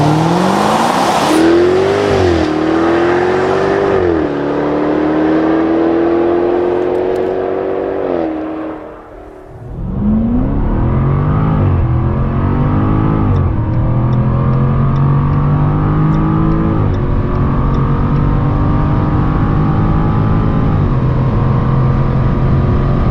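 Jaguar F-Type R P575 supercharged V8 launching hard from standstill, engine revving loud and close with rising pitch through several gear changes, a brief lift around the middle, then pulling steadily again at high revs.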